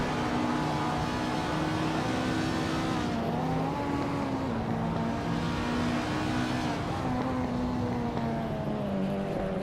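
Racing cars accelerate off the line at the start of a race at Kalabogi Stadium, led by a classic 1987 BMW 325i Touring, engines droning steadily and loudly with rising and shifting revs, no talking.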